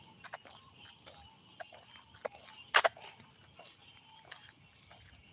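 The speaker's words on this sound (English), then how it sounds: "those frogs are loud tonight" Frogs call at night in the countryside, a chorus of short repeated croaks and clicks over a steady high insect-like drone, moderately distant and fairly faint.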